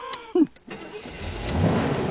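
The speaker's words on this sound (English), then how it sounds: "let's start her up and see what it sounds like." A 1979 Corvette with a 350 engine cranks and catches, its low rumble swelling steadily over about two seconds after a brief voice-like sound at the start.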